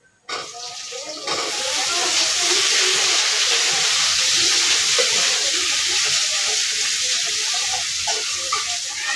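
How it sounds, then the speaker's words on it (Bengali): Eggplant frying in a hot pan for a Bengali fish curry gives a loud, steady sizzle with hiss and occasional stirring, close up, and faint voices in the background. "আজকে বেগুনটা আগে দিয়ে নিতেছি"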